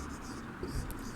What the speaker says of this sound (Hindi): तो यहाँ पे हम लोग अंगा का उत्तर लिखेंगे।